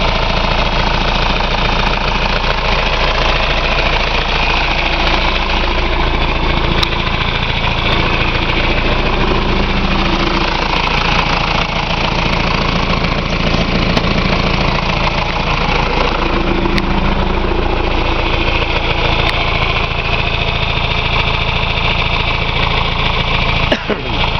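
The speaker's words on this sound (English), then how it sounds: "We got the tractor back together. It didn't go easy, but she's running." A John Deere 2355 tractor engine, freshly reassembled after a clutch split, idles steadily and loudly throughout, a constant low rumble with a slight uneven chug and no voices.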